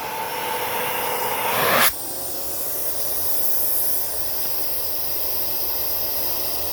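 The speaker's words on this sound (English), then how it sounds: "we can hear the air leaking around this hole" Air hisses steadily around the inlet of a Hoover S3341 Constellation vacuum cleaner as it runs, a close, continuous broadband rush that shifts abruptly in tone partway through and then holds.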